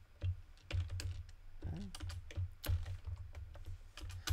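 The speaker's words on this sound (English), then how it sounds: "I hate typing." Fingers type on a computer keyboard in a steady run of close, crisp key clicks with irregular pauses, alone and without talk.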